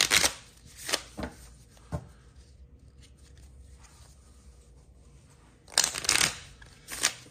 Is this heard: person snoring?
no